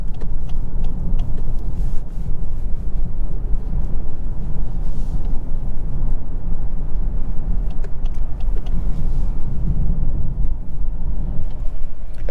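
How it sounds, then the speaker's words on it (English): A 2023 Lexus LS500 AWD cruises at highway speed, heard from inside the cabin as a steady low road rumble and muted tire and wind noise with no talk. "Now we're going to go ahead and hit the highway and try out the drive assistance technology"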